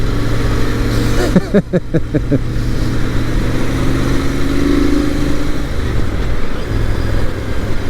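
Loud, close Royal Enfield Interceptor 650 motorcycle engine with wind rush, a burst of rapid throttle pulses early on, then a steady droning ride.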